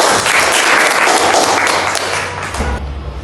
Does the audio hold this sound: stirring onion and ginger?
no